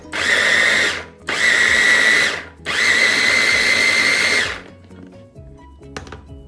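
An electric food chopper whirs loudly in three long bursts while mincing vegetables for Colombian hogao, each burst a steady high-pitched motor drone, then stops and leaves a few faint clicks.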